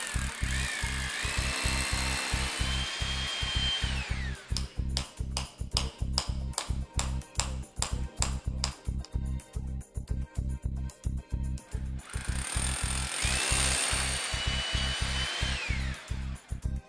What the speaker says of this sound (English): Drill the holes and countersink the accompanying dowels.